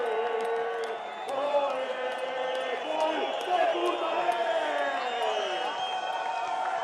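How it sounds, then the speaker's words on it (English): Spanish crowd roaring and cheering at the Baqueira Beret freeride ski competition, a sustained distant wash of cheers and whoops under a commentator's voice, with the sound of blowing horns mixed in. "And listen to this Spanish crowd."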